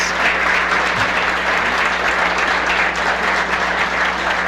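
A forum audience gives a steady, dense round of applause, many hands clapping evenly throughout at a loud, constant level.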